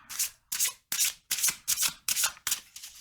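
Tarot cards are shuffled in seven quick, crisp riffles, each a short papery burst at a steady rhythm, close and clear with no talking.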